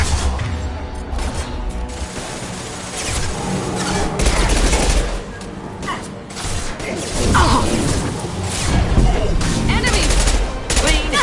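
Heavy gunfire and mechanical weapon clatter fill a Mass Effect combat scene, loud continuous bursts with crashes, mixed with shouted voices.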